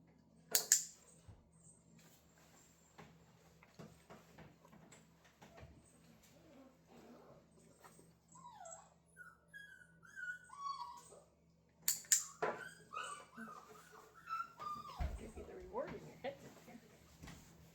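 Puppies about forty days old whimper and yip faintly in a quiet indoor pen, a few thin, high squeaky cries rising and falling near the middle of the stretch, mixed with scattered bumps and shuffling.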